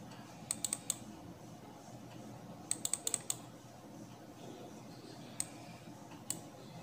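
Sharp, quiet computer mouse clicks come in small clusters of two to four, with a few single clicks later, as a movie button is clicked to play on a computer.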